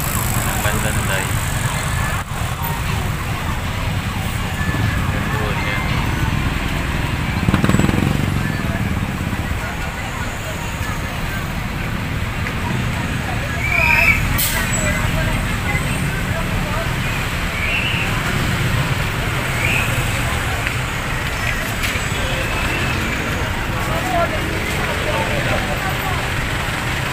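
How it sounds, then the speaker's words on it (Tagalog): Steady roadway traffic rumbles and hisses at close range for the whole stretch, with a few louder vehicles passing, under intermittent talk. "Traffic."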